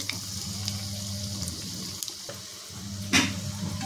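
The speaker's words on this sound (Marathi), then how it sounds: "त्याच्यामध्ये मी भजी टाकून तळून घेणार आहे" Mixed bhaji fritters fry in hot oil with a steady, fairly quiet sizzle and hiss, a low hum beneath it and a brief sharper splash or crackle near the end.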